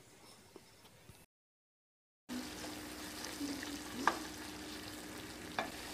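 Thick paste for kurma gravy sizzles and fries in a pan while a utensil stirs it, with a steady hiss and occasional scraping clinks, after a brief silent gap.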